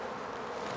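Honeybees from a 14 x 12 hive open for inspection hum in a steady, dense buzz, close and continuous, with no voices over it.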